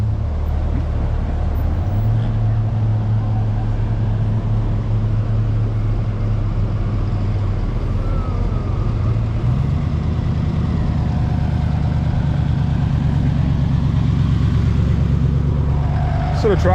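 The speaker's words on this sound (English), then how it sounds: "So the tractor's here. He's going to start ploughing the sand, which is going to make it dry out a little bit quicker." Tractor engine running on beach sand at a hot rod race event on Pendine Sands, a loud, steady low rumble throughout with a shift in pitch partway through as it works, with wind noise and no clear talk.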